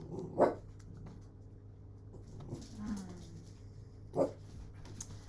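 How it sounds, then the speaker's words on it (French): Dogs barking in short, sharp isolated barks, two clear barks a few seconds apart with a softer whimpering sound between them, moderately near over a quiet background. "Et les toutous, ça suffit."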